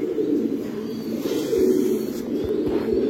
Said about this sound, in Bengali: ওই তো সুন্দর সুন্দর কবুতর আছে